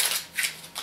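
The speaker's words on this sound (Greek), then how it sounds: "τώρα θα τα κόψω εγώ με το ψαλίδι μου" Scissors snip through paper slips for a prize draw, three quick close crisp cuts in a row, with no voices.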